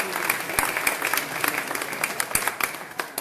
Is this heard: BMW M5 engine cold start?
no